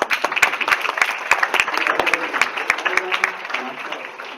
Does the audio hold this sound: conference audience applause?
yes